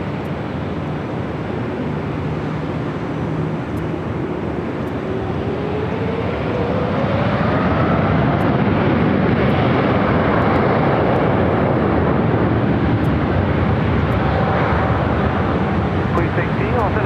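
An airliner takes off from runway 24 left at LAX on a December afternoon, a broad roar that builds and holds loud throughout, with a rising engine tone and tower radio chatter heard over it.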